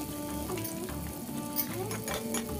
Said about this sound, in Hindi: तो वही परवल के साथ प्याज जीरा लहसुन प्याज ये सब मेरा भुना गया